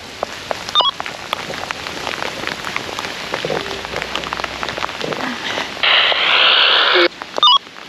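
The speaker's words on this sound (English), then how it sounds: "my windshield is hitting a lot of rain there" Steady rain drums on a big rig truck's windshield, a dense, close patter of drops with a few sharper taps and a brief louder burst of rushing noise near the end.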